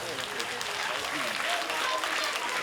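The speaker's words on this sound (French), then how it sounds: "Les enfants de Magic System, applaudissez-vous." Schoolchildren at a festive end-of-year gathering before Christmas applaud steadily, a dense, continuous wash of many small hands clapping throughout.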